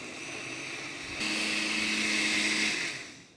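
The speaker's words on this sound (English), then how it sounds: "we're going to blend it up until it's nice and smooth" A blender whirring ice cream and milk into a milkshake: a soft motor hum jumps to a louder, steady high whine with a droning tone, holds for about a second and a half, then winds down.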